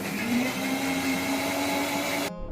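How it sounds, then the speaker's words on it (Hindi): Electric mixer grinder running in a home kitchen, a loud continuous motorized whir with a steady hum that cuts off sharply near the end. "मिक्सी अच्छा नहीं है।"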